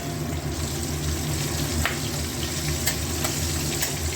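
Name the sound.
ginger frying in oil in a pan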